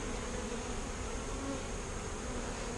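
Italian honey bees buzz in a dense, continuous drone while nucleus colonies are being installed into hives, the swarm sound close, loud and steady throughout with no voices.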